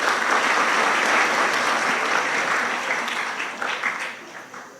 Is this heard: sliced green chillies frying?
no